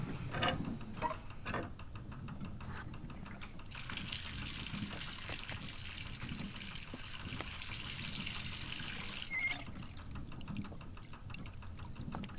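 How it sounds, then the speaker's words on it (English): In the video game Botany Manor, water pours faintly onto a potted plant, a soft trickle with light clicking and ticking around it, quiet and close. "Do I have to water it? I do."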